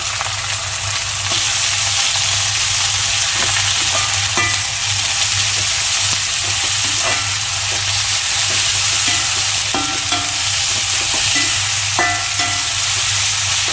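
Ginger, onion and curry leaves sauté in a hot pan with a loud, unbroken sizzle and hiss, while scattered clicks and scrapes of stirring come through the frying.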